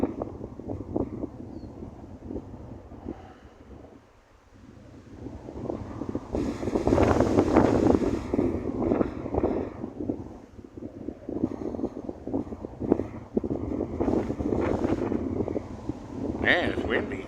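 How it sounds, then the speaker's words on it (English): Strong wind buffets a handheld camera microphone in gusty, rumbling bursts, rising and falling throughout, with a helicopter setting in the background. "That wind's trying to blow the camera out of my hand"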